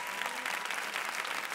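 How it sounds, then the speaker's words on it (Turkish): Applause greets two contestants on a Turkish television singing competition, a brief, loud, dense burst of studio audience clapping with no voices heard. "Büyük alkışlar Tilbe ve Mustafa için geliyor"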